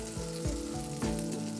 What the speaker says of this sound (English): Oh, there's a lot of sizzle going on.